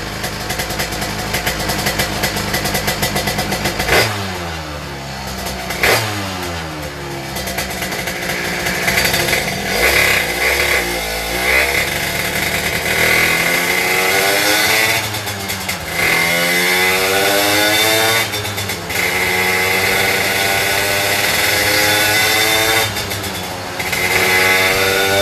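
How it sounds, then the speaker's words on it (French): A motocross bike engine runs in on a test bench, its revs repeatedly sweeping up and down through gentle gear changes and then holding steady at a high, buzzy pitch, loud and close throughout. "Envoyer quelques rapports comme ça, mais vraiment gentil, histoire que le moteur tourne un peu."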